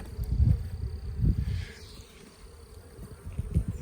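Honey bees buzz around the front of a hive on a farm, a soft insect hum with a few louder passes as bees fly close, no talk.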